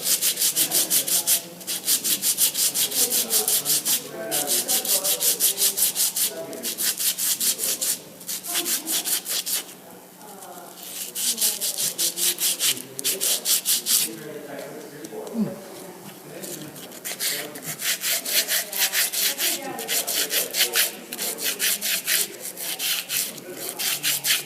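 Hand sanding a Jemez Pueblo pottery vessel with finer-grit sandpaper: steady, close rhythmic rasping strokes in bursts with brief pauses, while someone talks throughout.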